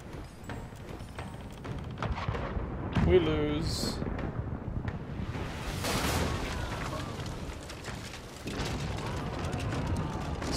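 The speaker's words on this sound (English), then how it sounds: "Soon, the only sound you can hear over the din of cannon fire is the splinter and moan of the sea cow." Booming cannon fire from a naval battle in the video game Pillars of Eternity 2: Deadfire, with repeated heavy blasts and crashing impacts forming a continuous loud din over several seconds.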